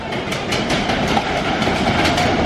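Steady rhythmic click-clack and rattling of a Disneyland roller coaster on its track, with a constant rumble underneath, close and fairly loud.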